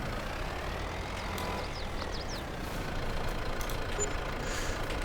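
Farming Simulator 22 vehicle engine revving hard then braking, a steady truck-like drone with hissing air-brake bursts and faint high squeaks, close and continuous with no talk.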